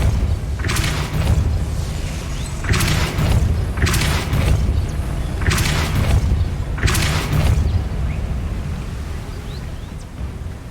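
Repeated Depulso spell blasts in Hogwarts Legacy, four booming bursts at roughly two-second intervals, loud over a continuous low rumbling game background.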